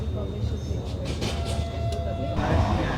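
Continuous rumble and rattle of the Bhopal Shatabdi Express (12002) running at high speed, heard from inside, with a steady low roar and a voice speaking over it.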